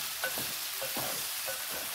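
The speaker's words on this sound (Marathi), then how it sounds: "भेंडी छान परतून घेऊया फोडणीमध्ये" Salted okra fries in a garlic tempering, a close, continuous sizzle broken by several soft scraping stirs at a steady pace, with no talking.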